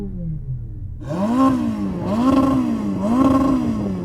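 A high-revving Ferrari 488 Pista engine fires up after a brief idle, then revs three times in rising and falling swells, loud and close.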